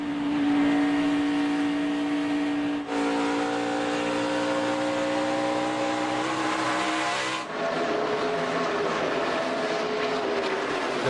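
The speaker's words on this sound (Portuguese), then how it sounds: "Vamos escutar o motor do Logano." A NASCAR Nationwide Series stock car engine at Dover roars loud and steady from onboard, holding a high droning pitch, then shifting abruptly twice as the driver changes gear or throttle, with no talk.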